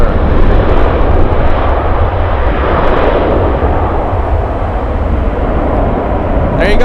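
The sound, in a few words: United Airlines Boeing 737 touching down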